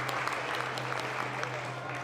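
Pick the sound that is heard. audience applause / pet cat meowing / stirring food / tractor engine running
audience applause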